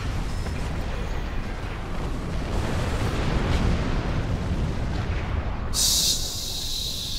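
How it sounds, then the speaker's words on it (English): Heavy phaser cannon fire in the space combat game Star Trek Online, a sustained dense roar of energy blasts with a sharp bright burst near the end, loud and alone. "Heavy phaser cannon."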